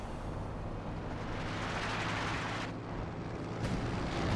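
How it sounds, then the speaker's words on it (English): Soviet 152mm artillery fire rumbles in a Company of Heroes 2 battle, a dense, steady wash of distant booming explosions with a couple of brief sharper impacts, no talk over it. "Mechanized right there taking catastrophic hits there from the 152mm artillery"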